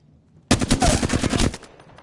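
Rapid automatic gunfire from the Apex Legends video game: one dense, loud burst of closely spaced shots lasting about a second, then a short fading tail.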